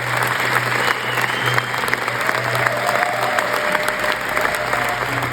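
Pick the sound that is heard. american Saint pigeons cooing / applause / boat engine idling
applause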